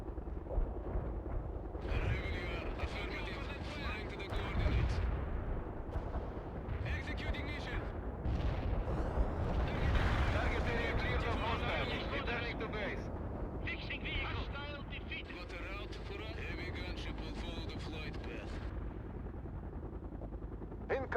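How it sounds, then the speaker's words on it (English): Incoming artillery in the World in Conflict strategy game: heavy rumbling blasts and booming impacts rolling continuously at close range, with radio-style voices talking over the barrage. "incoming artillery"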